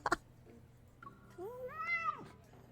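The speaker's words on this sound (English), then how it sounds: "A bald cat climbs onto Silas's chest, but it's swiftly grabbed by the hand of fate." A cat meows in the video game Love and Deepspace, one rising and falling meow near the middle after a soft click, fairly clear over a quiet background.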